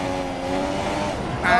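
Formula 1 engine note from Stoffel Vandoorne's McLaren during an overtake in a 2017 race, a high, whining tone that shifts as the car passes, ending in a sharp louder rise.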